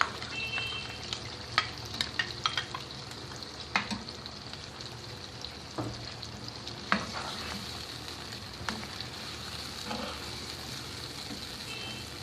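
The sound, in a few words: onions frying with tomato paste and yogurt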